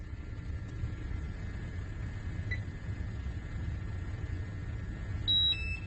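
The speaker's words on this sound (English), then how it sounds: "You can hear the alarm going off." A faint electronic beep sounds once from an air quality monitor, then a brief steady alarm tone near the end warning of a hazardous level, over a constant rumbling background with no talking.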